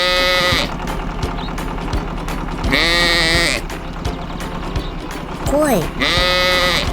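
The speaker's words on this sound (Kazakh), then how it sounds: "қой" A few sheep bleat in separate wavering calls spread over several seconds, fairly close and loud, with a steady low mechanical hum running underneath.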